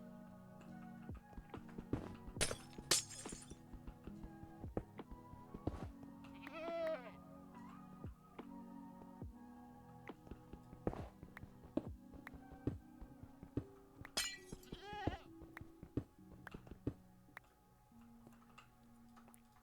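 Minecraft goats bleat in a couple of short wavering calls over a busy run of game noise: rapid ticking and clicking footsteps and block sounds, with a few quiet crackly bursts scattered through.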